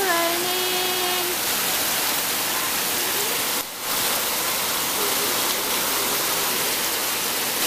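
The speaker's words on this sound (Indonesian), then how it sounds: "Hujan lebat." Heavy rain pours down in a loud, unbroken hiss of dense drops, very close and filling the whole clip, with only a brief dip partway through.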